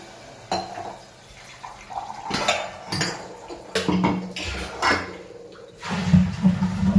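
Water is poured into a pot of eggplant and potato curry in a home kitchen, with clattering pots and utensils and splashing liquid over several seconds, fairly close and loud.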